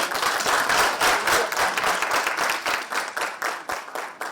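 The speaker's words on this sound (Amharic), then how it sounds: "ሞቅ ያለ ጭብጨባ" Warm applause fills a school awards ceremony in Addis Ababa as a top-scoring secondary school student is honoured. A crowd claps densely and loudly at first, then the clapping grows more ragged and thins toward the end.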